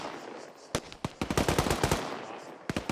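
Automatic gunfire in a military shooter video game: loud, close bursts of rapid rifle shots in quick rhythmic volleys, with a short gap and then another burst.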